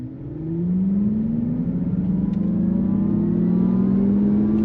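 A 2024 Acura ZDX A-Spec electric SUV pulls away under throttle, its drive whine climbing steadily in pitch over a continuous road rumble, holding loud and close for the whole stretch with no talking.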